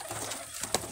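A Giribaz pigeon gives a brief, soft coo that ends in a short, sharper note, close by and fairly quiet.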